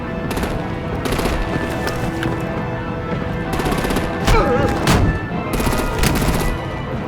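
Rapid bursts of heavy automatic gunfire from Batman: The Enemy Within game, rattling in repeated volleys over a dense battle din with a few louder cracks, alone with no talk.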